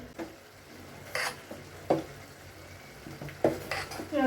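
Spoon stirring okra gojju in a cooking pan, a few scattered scraping and clinking strokes against the metal with a light sizzle underneath, no one talking.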